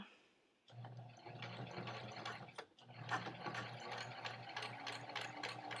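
A sewing machine with a zipper foot stitches an invisible zipper, running steadily with a fast mechanical whir and rhythmic needle clatter, briefly stopping and restarting, close and moderately quiet.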